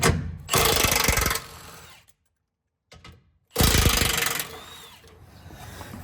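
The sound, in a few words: 16mm socket and extension removing carrier bearing bolts, Jeep Gladiator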